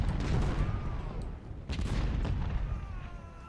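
Musket volleys and artillery fire from the Civil War battle game Ultimate General: Civil War, a steady rumble of distant gunfire and booms that rises and falls, heard alone.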